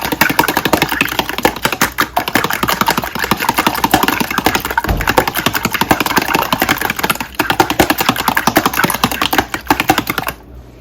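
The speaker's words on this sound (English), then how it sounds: "So I'm just gonna go ahead and scramble these eggs." Eggs whisked briskly in a bowl for a breakfast egg bake, a dense run of rapid clicking strokes close up that continues steadily for about ten seconds before stopping.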